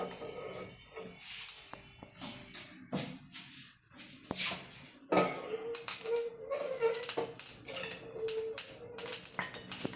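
A knife chops small shallots on a board for a Tripunithura-style chicken curry, a run of crisp, close taps in uneven bursts with light clinks of utensils and no talking.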